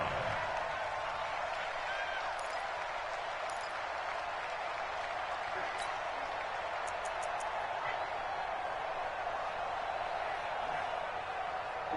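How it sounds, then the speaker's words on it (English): Stadium crowd in the Madden 20 football video game keeps up a steady, broad roar of cheering and applause, loud and unbroken, with occasional faint higher cries on top. "the crowd getting into it as we come up on a big third down"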